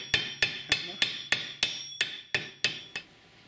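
Hammer flattening metal wire ends for a Viking brooch: ten sharp, evenly spaced metallic strikes with a ringing tone, each fading quickly before the next blow.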